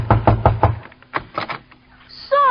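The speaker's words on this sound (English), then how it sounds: "I'll knock on the door." Four quick, firm knocks rap on a door as a vintage radio comedy sound effect, close and loud, followed by a pause, a few fainter thuds and a brief whistle-like tone at the end.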